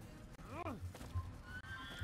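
A horse whinnies once in Assassin's Creed, a rising and falling neigh with hoof clops, heard beneath a man's speech.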